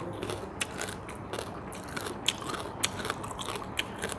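Close-up crunching as someone chews crisp bamboo shoots, with repeated sharp crackly bites at an uneven rhythm and no talking.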